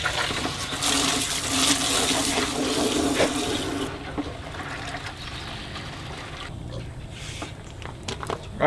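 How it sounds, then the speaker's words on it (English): Water runs steadily from a well after the pump brings it back online during a drought, a loud continuous gush for about four seconds before it eases into a quieter trickle with faint background sounds. "All right, so we've got water running right now."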